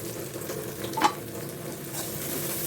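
Onions sizzle softly and steadily as they are sautéed in a pan for a Tamil-style channa masala. A brief stir or scrape can be heard near the middle, with no talk.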